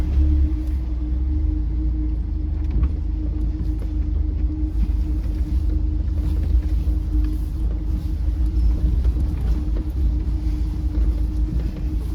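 A Mazda Miata engine idles while warming up, a steady low rumble with a constant hum and light mechanical chatter, close and unchanging, no one talking.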